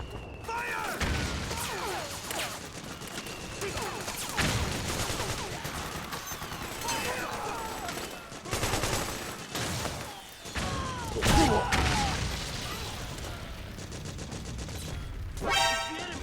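Suppressing gunfire crackles in bursts through a Metal Gear Solid 4 battle, with thumps and crashes between them and a fast rattling burst near the end, while voices shout over the fighting.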